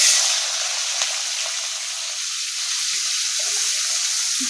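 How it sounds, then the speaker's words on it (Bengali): Shrimp dropped into hot oil in a home kitchen pan, a steady, close bright sizzle holding evenly throughout with a faint clink near the start. "তেলটা গরম হয়ে গেছে, আমি এবার চিংড়ি মাছগুলো দিয়ে দেবো।"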